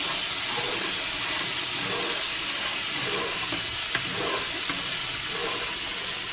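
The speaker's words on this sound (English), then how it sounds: "You wanna stir it immediately." Penne pasta is stirred in a hot pot, a steady, loud bubbling hiss with faint scraping and knocking as the pasta is moved around, with no one speaking.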